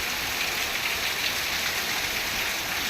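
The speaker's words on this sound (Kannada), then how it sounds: "ಮಳೆ ಮಳೆ ಮಳೆ ಮಳೆ ಇದು ಫೈನಲ್ ಆಗಿ ಹಿಂಗಿದೆ ನೋಡಿ ಈ ಕಡೆ ವೆದರ್ ಎಲ್ಲ" Rain pours down steadily in a dense, even hiss with no let-up, heavy and close, and no voices over it.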